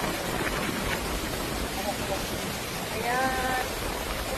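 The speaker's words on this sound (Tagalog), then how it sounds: "Umuulan." Steady rain hisses evenly all around on Boracay, with a voice briefly speaking over the constant wash of falling water.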